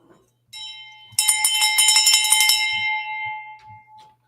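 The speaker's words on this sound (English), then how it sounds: "Where's that bell?" A handheld bell is rung to celebrate a sales result, a bright metallic ringing with one soft strike followed by a rapid burst of loud jangling that rings out and fades.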